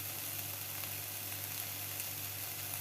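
Four thick garlic cloves fry in hot oil for a raw tomato chutney, making a steady, even sizzle with faint crackle under a low hum, quiet and unbroken, with no voice.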